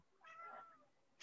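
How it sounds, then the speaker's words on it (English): A single faint pet cat meow, short and rising then falling, heard alone in a quiet room before a soft noise at the end. "we heard your cat and it was the best"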